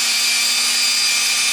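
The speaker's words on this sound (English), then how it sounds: "I'm going to let the drill do all the work." A power drill whirs in a steady, loud, continuous high whine as it spins a bundle of wires into a twisted pair for pinball machine wiring, with no pauses or talk.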